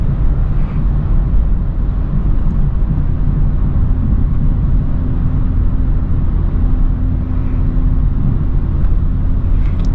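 A BMW M340i cruising near 100 on a smooth Long Island highway, steady loud engine and road roar with a faint drone running unbroken throughout, no voices.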